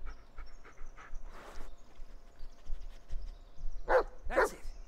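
A dog in the Blair Witch video game pants and sniffs softly, then lets out two loud, close barks near the end over a faint ambient drone.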